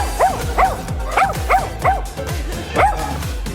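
Dogs at a Korean dog cafe bark and yip in quick repeated bursts, about half a dozen sharp, close, loud calls with short gaps between them and no talking.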